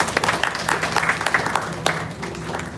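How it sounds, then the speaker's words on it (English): A crowd at a book launch applauds with steady clapping for a few seconds, fading slightly toward the end. "This deserves a big round of applause for Niyati."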